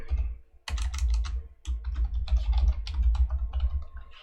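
Computer keyboard typing a password, with quick clustered keystrokes in close irregular bursts and a brief pause near the start.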